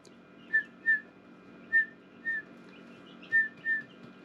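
Sebastopol gosling peeping from inside its egg while hatching, six short high chirps in an irregular rhythm, close and fairly soft over a low background hum.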